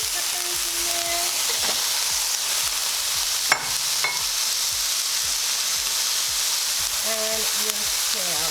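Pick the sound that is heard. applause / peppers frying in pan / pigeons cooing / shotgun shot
peppers frying in pan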